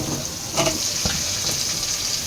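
Onions, ginger and garlic fry in a pan with a steady broadband sizzle, broken by a few brief stirring scrapes and clatters near the start and middle.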